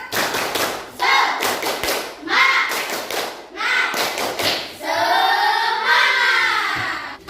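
Primary school class clapping a rhythmic cheer pattern in short bursts of fast, close claps and thumps, with children's voices chanting along between and over the beats.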